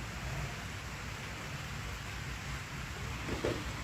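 Soft, steady patter of light rain over water, a continuous gentle hiss with a faint brief knock near the end.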